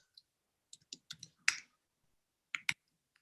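Password being typed on a computer keyboard: a few sparse, quiet key clicks in two short bursts with silence between, no talk.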